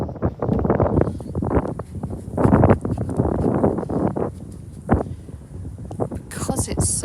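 Strong outdoor wind buffets the microphone continuously on a cold day near Silchester church, with loud gusty rumbles and rustling throughout and a brighter burst near the end.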